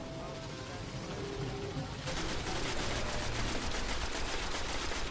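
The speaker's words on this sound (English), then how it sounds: "He's using that icebreaker sniper rifle." Icebreaker sniper rifle fire in Destiny's Vault of Glass raid, heard as dense, continuous gunfire that grows louder partway through and stays steady to the end, with no speech.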